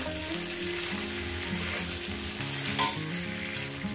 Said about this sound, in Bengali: 3-4 মিনিট কি 5 মিনিট আমি সবজিগুলোকে ভেজে নেব।